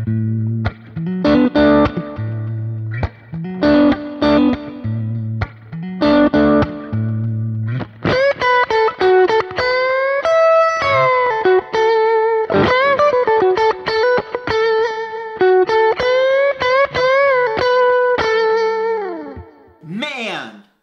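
An electric guitar played through a Kemper amp with the hot knife post-amp EQ engaged plays a loud distorted riff of staccato chords, then flowing sustained single-note lead lines with bends, close and unaccompanied by speech.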